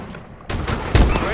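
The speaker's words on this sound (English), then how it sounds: "Launching a stun grenade." In a shooter video game, a stun grenade launch comes as a sudden sharp burst followed by a second heavier thump, short and loud amid dense in-game gunfire noise.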